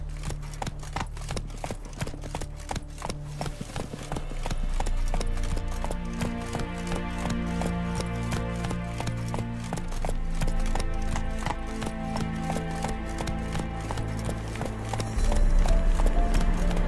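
Horse hooves clip-clop steadily in The Witcher 3, a brisk rhythmic gait that shifts pace partway and rises to a heavier, louder stretch near the end, with faint background ambience.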